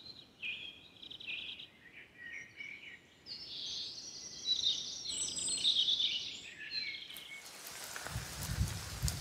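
Woodland ambience at Fingal Woods on Dartmoor, UK, with birds singing and chirping in layered bright phrases over a soft background hush, a low rumble entering near the end.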